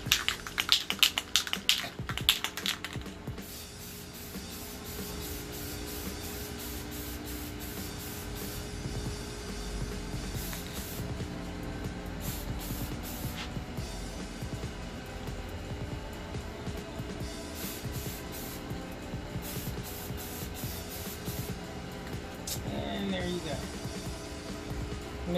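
Rust-Oleum satin seaside spray paint hisses steadily onto a wineglass, a close continuous spray lasting about twenty seconds after a short burst of handling noise.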